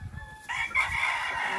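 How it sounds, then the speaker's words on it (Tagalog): A purebred Kelso rooster crows once nearby, a loud, sustained, strained call that rises sharply and holds to the end, with faint clucking and low farmyard noise before it. "So, ayan yung tandang natin."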